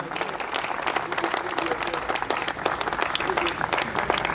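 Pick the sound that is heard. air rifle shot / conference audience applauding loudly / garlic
conference audience applauding loudly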